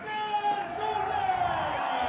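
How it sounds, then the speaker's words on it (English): Crowd cheering and whooping at the World Rallycross podium in Norway, a broad steady roar with high yells rising over it, held throughout at a distance with a commentator's voice faintly woven in. "lovely reaction from the crowd too"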